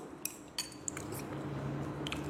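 Bangka noodles tossed in a bowl with cutlery, a few quick metallic clinks and scrapes over a soft continuous background hush, close and fairly quiet.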